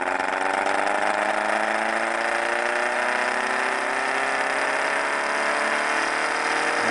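An experimental Lenz-law motor driven at 19 volts gives a steady, loud electric whine, its layered tones climbing as it spins up, with no talking.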